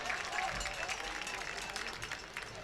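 A home crowd at a minor-league baseball opening night game cheering and applauding after the first hit, a steady wash of distant clapping and crowd noise heard under faint talk.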